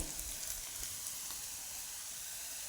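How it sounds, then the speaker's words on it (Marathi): Onions and curry leaves fry in oil for a moong-sprout vegetable dish, giving a steady, fairly quiet sizzle with faint scraping as they are stirred, no voices. "कडीपत्ता टाकून घ्यायचा आणि परत असं एक मिनटासाठी हलवायचं"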